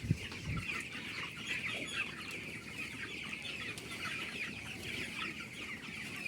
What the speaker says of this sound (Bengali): তো দেখে আমি পাঁচশো মুরগি তুলি